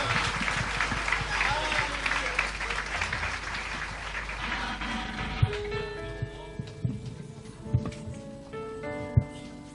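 Dense applause from a large church congregation fills the first half, then thins into scattered claps as music and voices take over.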